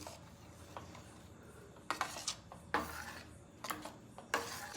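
Masala poori gravy thinned with water being stirred in a pot, soft scraping and sloshing strokes that come in irregular bursts of clinks and swishes against a quiet background.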